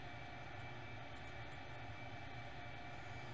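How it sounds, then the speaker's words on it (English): Steady airliner jet engine drone from the CFM engines of a ToLiSs A319 in X-Plane 11, a constant low rumble with a faint high whine, even and unchanging. "these are CFM engines"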